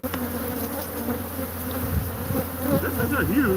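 Honeybees buzz loudly and continuously inside a hive built in a washer/dryer, the drone swelling and wavering as individual bees pass close by.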